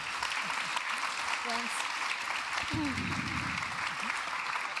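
Audience applause closing a live interactive panel event, a broad steady clapping wash that runs throughout, with voices speaking over it.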